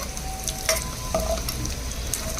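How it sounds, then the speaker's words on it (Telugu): Dried prawns fry in a pan with a steady close sizzle, while a few brief scrapes and clinks from stirring break through now and then. No one speaks. "ఇదిగోండి చక్కగా వేగుతున్నాయి రొయ్యలు"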